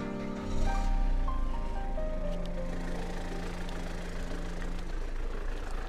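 Chevrolet diesel car engine idling with the hood open, a steady low rumble and knocking hum running continuously at close range.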